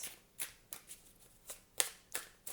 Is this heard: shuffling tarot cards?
yes